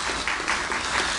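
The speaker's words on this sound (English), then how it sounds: "We should probably applaud for her" Brief applause from a classroom audience during a lecture on sensation and perception, steady clapping that holds at an even level for about a second.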